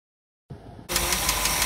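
The engine of a vintage RV bus that sat unused for years fires up after a brief silence, settling into a steady, loud, close-up running rumble with no talk.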